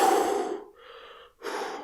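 Heavy, out-of-breath breathing after running on a gym treadmill: a long loud exhale, a quieter breath, then another strong exhale, close and alone with no talk.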